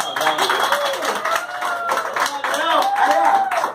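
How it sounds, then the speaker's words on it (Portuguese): Guests at an engagement party clap in a lively, uneven burst of hand claps, with voices talking and calling out over the clapping throughout. "Uma salva de palmas."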